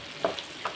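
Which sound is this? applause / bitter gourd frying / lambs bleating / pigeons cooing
bitter gourd frying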